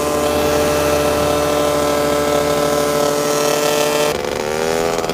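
Paramotor engine droning in cruise flight at about 6,700 RPM: a loud, constant, buzzing roar with strong harmonic whine that shifts pitch slightly near the end, close and unbroken, with no speech.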